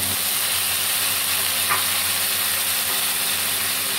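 Stink beans (sato) stir-fried in a pan for a Thai dish with yellow chili and shrimp, giving a steady, loud broadband sizzle and hiss with no talking.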